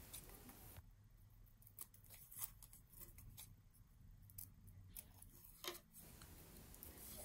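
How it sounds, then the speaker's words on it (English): Scissors trim the ends of folded magazine paper in a run of quiet, close snips and crisp clicks spread over several seconds, with no talking. "Then trim the ends."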